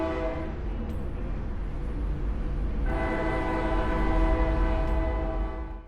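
An Amtrak Piedmont train rolls along, its rumble steady and loud, while the horn sounds in long, sustained blasts that swell midway and then fade near the end.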